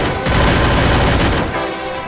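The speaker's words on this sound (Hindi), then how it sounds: "पागलों की तरह फायरिंग मत कर" Rapid bursts of automatic gunfire in the Free Fire battle royale game rattle loudly for over a second, then trail off into a quieter echo.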